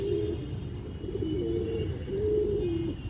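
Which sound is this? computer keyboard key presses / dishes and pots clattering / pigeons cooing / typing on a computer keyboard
pigeons cooing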